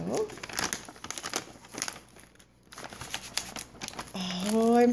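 Decorative paper from a planner subscription kit being handled, with a run of crinkling and rustling bursts, one brief quiet gap, and a voice speaking near the end.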